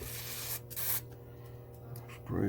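A hissing aerosol spray in a couple of sustained blasts into a Lionel model train motor, with a short break in between and a soft rustle at the end.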